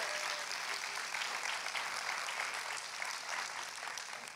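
A women's conference crowd applauds steadily, a sustained patter of many hands clapping at a moderate distance, without any talking.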